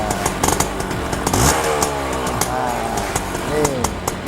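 A 1979 Suzuki A100 two-stroke motorcycle with an Orion exhaust revs close up in sharp, repeated throttle blips with a rising, crackly buzz. Someone talks over the engine.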